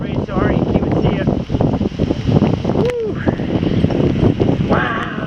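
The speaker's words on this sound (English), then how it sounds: "now it's raining real hard. It's getting real windy." Heavy rain and strong wind outdoors in a June downpour, a loud steady roar of wind buffeting the microphone with rushing rain, while someone talks and exclaims over it throughout.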